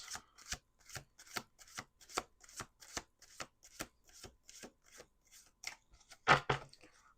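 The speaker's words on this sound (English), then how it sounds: "2 more shuffles." Tarot cards shuffled in a steady riffle, a dozen crisp papery bursts at an even rhythm close to the microphone, ending with one louder, longer flutter.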